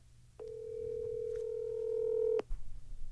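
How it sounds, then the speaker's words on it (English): Telephone call on speaker: a steady electronic tone sounds for about two seconds after a short click, then cuts off, with faint background noise around it. "We're gonna call Rambler Brent right now"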